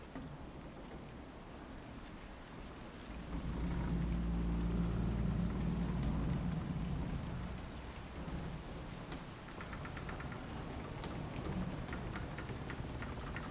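Steady rain falls in a thunderstorm in the video game Dragon Age Inquisition, with a deep rolling swell of thunder that builds and fades in the middle of the hiss. No voices are heard.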